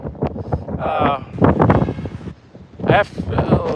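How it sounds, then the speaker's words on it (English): Wind gusts batter the microphone with low rumbling blasts while a person talks close by, the buffeting rising and falling throughout. "see, it's windy here."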